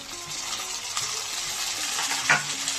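Chopped tomato and onion fry in a pan, making a steady close sizzle with soft stirring scrapes and one brief metallic clink near the end.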